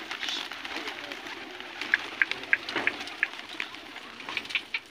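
Pigeons at a pigeon-flying contest give a run of short, fairly faint calls and flutters over a hissy outdoor background, with voices in the distance.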